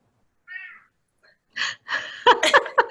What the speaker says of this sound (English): Yeah, that would be my cat.